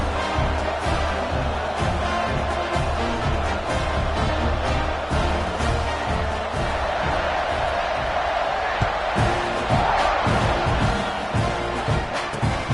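A football stadium crowd roars steadily at kickoff of Penn State versus Texas A&M, a dense, continuous wash of cheering with scattered thumps, under a commentator's voice.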